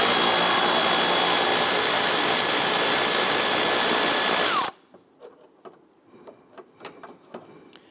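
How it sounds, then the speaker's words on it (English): A power tool, an impact wrench or electric ratchet, runs loud and steady for about four and a half seconds while removing a 10mm bolt from a headlight bracket on a 2008-2013 Infiniti G37. It then stops, leaving faint clicks and handling noises. "That is a 10mm, so we're going to use our impact or electric ratchet here."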